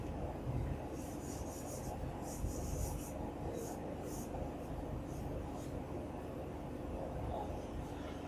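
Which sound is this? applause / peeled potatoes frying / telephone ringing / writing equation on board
writing equation on board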